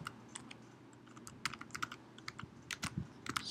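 Soft taps on a computer keyboard, a few irregular bursts of key clicks, close and quiet, with no talking.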